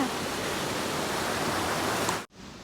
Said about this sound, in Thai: วันนี้พามาดูบรรยากาศ น้ำตกเล็กๆ ค่ะ